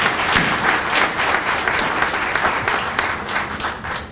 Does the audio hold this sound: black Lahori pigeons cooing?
no